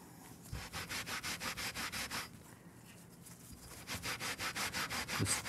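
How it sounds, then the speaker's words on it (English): A sanding pad rubs metal back and forth in quick, rhythmic strokes, pausing briefly in the middle before resuming, close and fairly quiet. "we're gonna start off a little bit of a Brillo pad. This is actually kind of more of a sanding pad"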